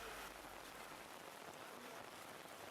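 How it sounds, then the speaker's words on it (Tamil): Heavy rain pours down at an outdoor market, a steady, dense hiss of drops on surfaces with no break, loud and alone. "இந்த நிலையில் பிற்பகலில் திடீரென கனமழை பெய்தது."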